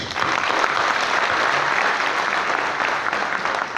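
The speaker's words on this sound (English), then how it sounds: "Please, a round of applause for a visionary," Loud, sustained applause from a large graduation ceremony audience in a congress hall, a thick continuous roar of clapping with no break.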